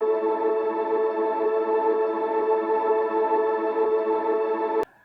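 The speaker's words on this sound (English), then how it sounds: "this is just a string drone and a vocal drone that I'm filtering down a bit." A filtered string drone layered with a vocal drone forms a steady melodic house atmosphere, a smooth sustained midrange tone held evenly until it cuts off with a brief click.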